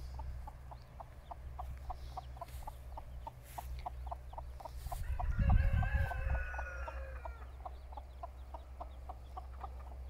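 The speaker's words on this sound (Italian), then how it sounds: "questa è Gerolama con i suoi pulcini" Hen clucking among her eight chicks, a steady series of soft, evenly spaced clucks over a low rumbling background, with a brief rise of louder squawking calls midway, moderately close and with no talking.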